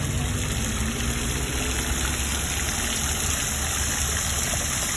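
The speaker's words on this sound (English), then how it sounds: "they've got this nice little waterfall." A small waterfall at Carlsbad beach pours with a steady, even rush of water that holds at the same level throughout, with a low rumble underneath and no voices.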